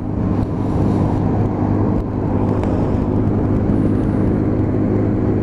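A Lexmoto Assault motorbike on new dual sport tyres, ridden along damp country roads, gives a steady, loud, close engine drone mixed with wind and road rumble, with no pauses and no talking.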